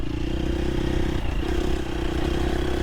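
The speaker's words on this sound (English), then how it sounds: "a little power wheelie there just to show you how much you could just get on it" A 2023 KTM 350 SXF dirt bike with a Vortex ECU revs hard in a power wheelie, its engine roaring loud and steady with a brief dip before pulling on, heard close with wind and clatter.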